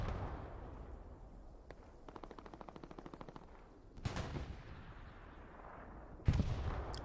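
Artillery and gunfire in the Hell Let Loose game at night: a rapid burst of machine-gun shots in the middle, then two sharp, loud blasts from heavy guns over a constant low rumble of distant fire.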